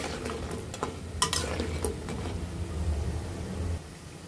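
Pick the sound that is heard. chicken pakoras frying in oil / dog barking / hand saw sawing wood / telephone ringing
chicken pakoras frying in oil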